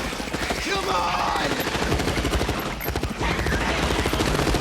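Machine guns rattle in rapid, continuous bursts during a battle scene in the 1997 film Starship Troopers, loud and close, with shouting voices mixed under the gunfire.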